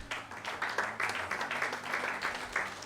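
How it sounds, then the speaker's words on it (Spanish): A church congregation applauds together in a lively rhythmic clapping pattern, quite faint and roomy, with a low murmur of voices beneath. "Dele un fuerte aplauso al Señor."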